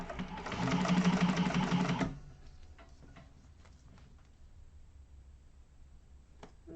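A freshly oiled sewing machine stitches in a loud, rapid, even burst for about two seconds, then falls to faint clicks and quiet handling noises.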